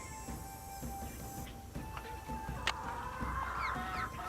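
Chicken clucking in the Nancy Drew ranch video game, soft repeated clucks over a quiet game background, with a brief sharper squawk near the middle.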